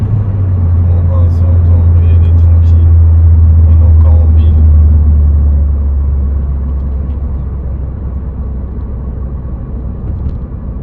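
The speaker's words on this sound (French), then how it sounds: "On va voir comment le turbo il charge." A turbocharged Peugeot 208 GTi engine rumbles loud and low for several seconds, a heavy steady drone that gradually eases off toward the end.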